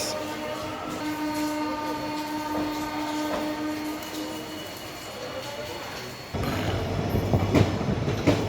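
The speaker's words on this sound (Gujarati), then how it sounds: "ખૂબ જ સરસ સસ્તી અને સરસ ફાસ્ટ ટ્રેન છે આ ઇન્ટરસિટી એક્સપ્રેસ" Gandhinagar–Veraval Intercity Express passenger train sounding a long sustained horn, followed by louder rumbling and clatter of the coaches rolling close by, with some voices in the background.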